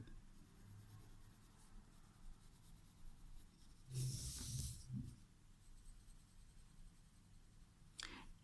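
A pencil rubs softly and steadily while colouring a drawing of an elephant, a faint scratchy shading sound with a brief louder burst of strokes in the middle, close and quiet.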